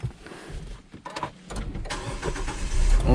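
A Nissan Juke's engine cranks and catches, settling into a rising idle rumble inside the car, with small cabin clicks and shuffles before it fires.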